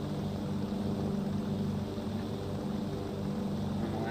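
Lockheed Super Constellation piston propeller engines run in the FlightGear flight simulator near the Shuttle Landing Facility in Florida, a steady, loud droning hum held at full throttle throughout.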